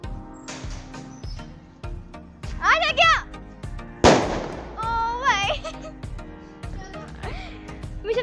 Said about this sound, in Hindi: इंडिया जीत गई, इसकी खुशी में हम पटाखे जला रहे हैं